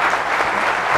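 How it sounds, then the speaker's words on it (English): A round of applause for people on stage at the Good Pride 2016 event, a loud, dense burst of many hands clapping, close and uninterrupted for a brief moment. "A big round of applause to these people on stage."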